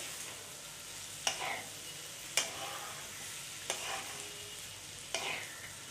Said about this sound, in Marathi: उकडून ठेवलेली आपली जी अभयची शेंग आहे ती घालून घेते आणि पुन्हा एकदा याला व्यवस्थित परतून घेते